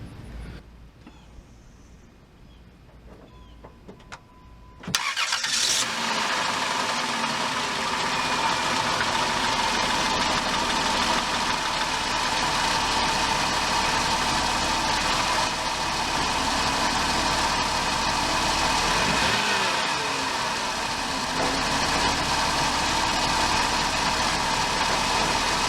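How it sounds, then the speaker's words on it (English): A Dodge Caravan engine cranks and catches after a few quiet seconds, then settles into a steady, close idle hum that runs on without talk. "I'm going to go start the vehicle, let it run for a couple minutes"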